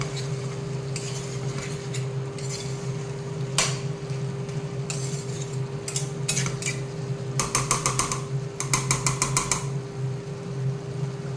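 A spatula stirs local chicken with potatoes frying in a pan over medium flame, with scattered metallic scrapes and clinks that bunch into quick rapid bursts, over a low steady hum and soft sizzle, with no voices.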